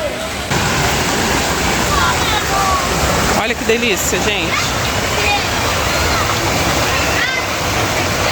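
Constant rushing roar of a waterfall in Jaceruba, Nova Iguaçu, fills the scene, with a person speaking briefly over it and faint voices of a crowd in the background.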